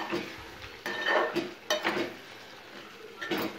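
Chicken liver fries with coconut powder in a pan, heard as several distinct scraping and clinking strokes of a utensil against the pan over a faint sizzle, close and intermittent.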